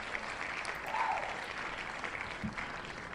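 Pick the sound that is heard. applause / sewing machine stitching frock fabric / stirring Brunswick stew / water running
applause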